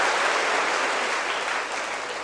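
An audience claps together in a dense, sustained burst of applause that stays full and even before easing slightly near the end.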